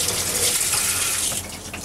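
Hot water tap running into a double sink in a horse trailer's living quarters, giving a steady, close hiss of flowing water that eases slightly near the end, with no talking.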